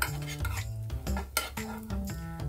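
A spoon scraping and clinking in a pan as cashews fry in ghee for carrot halwa, short metallic knocks and stirring with a faint sizzle beneath, alongside soft tonal background music.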